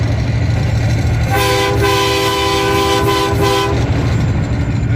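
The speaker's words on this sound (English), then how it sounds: "The old choo-choo train over there." A train rumbles past with a steady low roar while its horn sounds a long, loud, chord-like blast in the middle.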